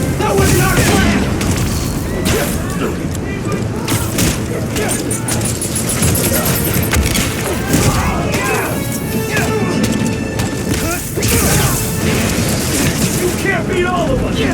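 Explosions and booming blasts from the Spider-Man Miles Morales video game during the fight with Simon Krieger on a collapsing bridge, loud and dense throughout, with crashes and debris over a continuous roar and shouted game dialogue.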